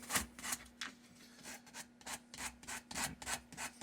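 Quiet, rhythmic rasping strokes of 80 grit sandpaper on a wooden hammer handle, about three strokes per second, close up and faint with a steady hum beneath.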